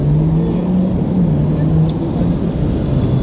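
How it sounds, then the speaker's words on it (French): Steady car traffic on a busy Paris street, a continuous loud engine and road rumble with a low drone running throughout, no clear single passes standing out. "il y a trop de voitures, trop."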